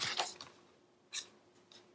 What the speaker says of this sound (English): now we're going to cut a decorative